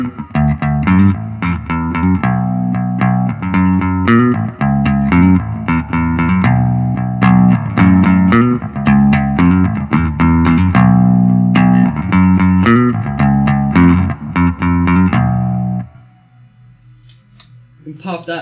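A Rickenbacker 4003S electric bass on both pickups plays a steady, punchy riff with a bright, full, modern tone and slight effects, then stops near the end leaving quiet hum.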